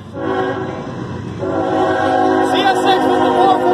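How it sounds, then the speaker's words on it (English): A loud CSX freight train, locomotive 5445, rumbles past through Altamont with a steady horn blast, the heavy rolling noise swelling midway and staying strong to the end. "Okay, get this train."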